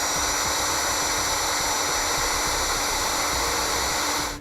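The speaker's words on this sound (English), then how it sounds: "We'll then use a heat gun to shrink down our connectors." A heat gun blows steadily while shrinking wire connectors during a trailer brake controller wiring install on a 2013 Chevrolet, giving a continuous close airy roar with a fixed hum that lasts the whole stretch and drops off at the very end.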